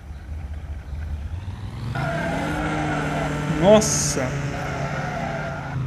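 A Chevrolet Camaro in an old Brazilian car video game, engine droning and rising as it revs, with a sharp tire skid squeal midway, while someone talks over it.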